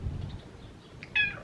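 A pet cat meows near a window indoors, one short clear meow arriving near the end after quiet background rumble.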